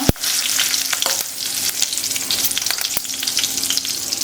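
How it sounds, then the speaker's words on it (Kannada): Cumin and dried red chillies crackling in hot oil for a coriander tambuli, a loud dense sizzle right up close with a sharp knock at the start and a few quick pops, no voices. "ಎಣ್ಣೆ ಸ್ವಲ್ಪ ಬಿಸಿ ಆದಮೇಲೆ ಈ ಜೀರಿಗೆ ಮೆಣಸು ಹಾಕೊಂಡ್ಬಿಡೋಣ"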